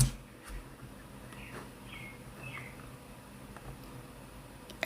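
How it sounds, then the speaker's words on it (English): Several faint, distant birds chirp in brief high twitters against a quiet indoor background hum, with no talking. "Can you hear those birds?"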